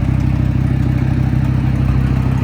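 A Georgetown RV engine, freshly fitted with a swapped transmission and with an exhaust in need of repair, runs steadily while driving, a loud, close, even low drone with a faint rattle and no voices.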